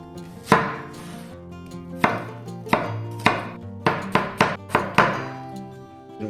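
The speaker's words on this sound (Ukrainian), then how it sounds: "Наріжемо цибулю." Onion being chopped on a board for a beef and melon stew, about nine sharp knife thunks in an uneven rhythm, close and clear with no talking.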